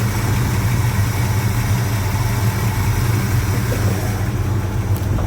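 A 1984 Chevy C10 pickup with a mildly built 350 V8 idles steadily and close by, its deep, even rumble continuous throughout with no talk over it.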